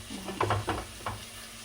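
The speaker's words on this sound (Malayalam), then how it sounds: "ഉള്ളി നന്നായിട്ട് വരട്ടാം." Onions sautéing in a pan for Malayali-style pepper chicken, giving a quiet, short sizzle with a few soft stirring scrapes that rise and fall; close by, with no one talking.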